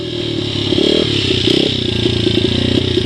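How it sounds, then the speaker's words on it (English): A 2005 Honda CRF 80F dirt bike engine runs steadily while being ridden, a loud close buzzing drone that rises and falls slightly in pitch along with the throttle. "I don't often ride dirt bikes, but it's still technically an ATV."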